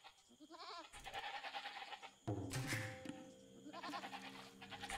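Sheep bleat in a video game on a strategy map: several wavering bleats at close range, one after another, with game sounds underneath and no voices.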